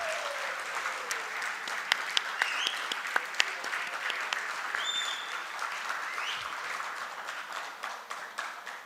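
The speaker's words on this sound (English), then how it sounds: "A big round of applause to all yourself." An audience at a two-day corporate conference at Gateway Resort in Nashik applauds, a steady mid-distance patter of many hands with a few sharper individual claps standing out and faint murmurs behind.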